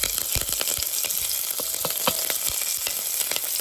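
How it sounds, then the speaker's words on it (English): Cumin seeds, chopped chilli, curry leaves and asafoetida sizzle in a tablespoon of hot oil, a dense close fry with constant popping and spitting crackles, loud and unbroken, with no talk. "So here I have got 1 tablespoon of oil. In that I am going to add cumin seed, 2 chilli chopped, curry leaves and asafoetida."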